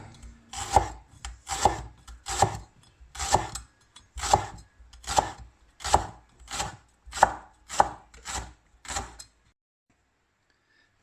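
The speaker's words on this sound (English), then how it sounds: "We start cutting the leek first." A knife chops through leek on a cutting board in a steady, even rhythm, about a dozen crisp close strokes in a row, then the cutting stops and silence follows.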